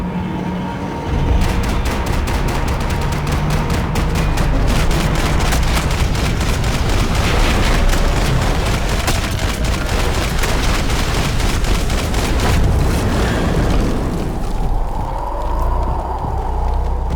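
Sustained gunfire from a Max Payne 3 shootout, with dense rapid shots and bursts crackling nearly nonstop for about thirteen seconds, loud and close, before easing into quieter ambience.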